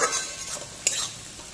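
Onions frying in a pan until lightly browned, a soft, steady sizzle with faint stirring scrapes and one brief clink of a utensil partway through.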